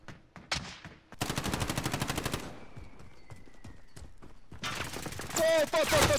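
Rapid automatic gunfire rattles in Call of Duty Warzone, a loud close burst of evenly spaced shots followed by a lull of scattered lighter shots, then a second sustained burst, with a player's voice talking over parts of it.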